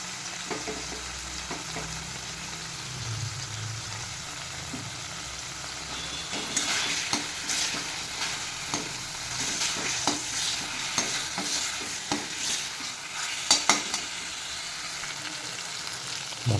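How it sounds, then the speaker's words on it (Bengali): Bengali spice paste with a little chopped tomato fries in a pan for potol posto, a continuous sizzle under repeated scraping stirs that grow busier and louder in the second half, close up. "মশলাটি কষানো হয়ে গেছে"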